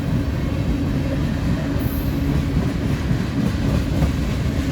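A Norfolk Southern freight train rolls past at close range, a continuous loud rumble of wheels and railcars with faint clacking, unbroken across the whole stretch.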